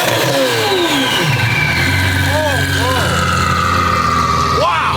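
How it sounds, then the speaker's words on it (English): A Gintani twin-turbo V12 Lamborghini SV fires up on a warm start, its engine revving loudly up and down in several sharp bursts close by, with people talking over it. "Warm start! Sounds like an Aventador."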